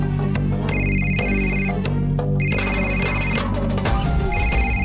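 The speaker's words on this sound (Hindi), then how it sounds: "उस औरत का ही फोन आ रहा है फिर से।" A phone rings insistently with an incoming call in a Hindi TV serial scene, its tone repeating in steady bursts, loud and close over a low background hum, with no talking.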